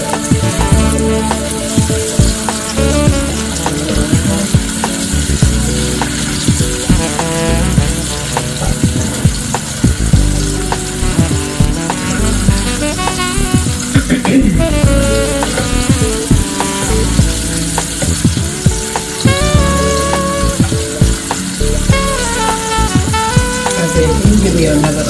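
Peppers for chicken fajita tacos sizzle steadily in a hot pan, a loud continuous frying hiss with occasional stirring, close up and without talk.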